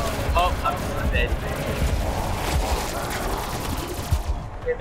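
Rapid gunfire from a Black Ops 4 zombies match, bursts of shots cracking one after another in dense volleys over a rumbling game background, with players talking over it.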